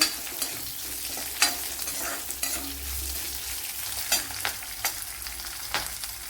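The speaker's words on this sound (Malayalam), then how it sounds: "ഒരു പത്തല്ലി വെളുത്തുള്ളി ഇട്ട് കൊടുക്കാം ഇതെല്ലാം കൂടെ ഒന്ന് മൂപ്പിച്ചെടുക്കണം" About ten garlic cloves frying in a pan alongside chopped vegetables, a continuous close sizzle broken by sharp scraping stir strokes and clatters at irregular intervals; no speech.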